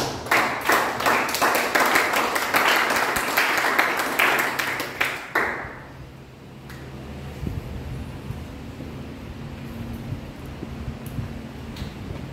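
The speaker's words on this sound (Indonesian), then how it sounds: "Beri tepuk tangan bagi Tuhan dulu." A church congregation claps in a dense, rhythmic round of applause for several seconds, then it fades into quiet room hum and scattered thumps.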